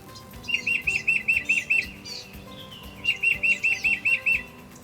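A tufted titmouse sings two bursts of its repeated whistled two-note phrase, about six clear notes each, near and loud over a quiet backyard background.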